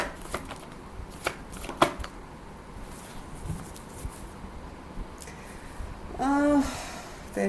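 Tarot cards are shuffled by hand in a quiet room, with soft riffling and patting bursts and a few sharper card snaps, close and moderately loud.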